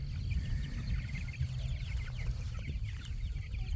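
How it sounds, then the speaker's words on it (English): Three-week-old chicks cluck and peep while scratching on grass pasture, their soft, scattered calls layered over a steady low rumble of outdoor background noise. "These chicks are about 3 weeks old exactly, and we just put them in here."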